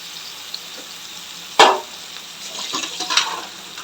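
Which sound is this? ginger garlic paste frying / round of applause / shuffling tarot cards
ginger garlic paste frying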